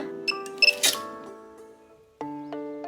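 An iMark handheld inkjet date printer marking the bottom of a bottle gives quiet, close clicks and a few short electronic beeps, then a sustained tone.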